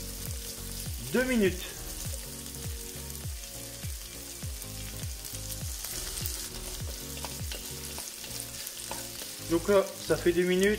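Chorizo frying in a pan, starting to release its oil, gives a steady sizzle that runs under someone speaking French, with a few louder crackles near the end.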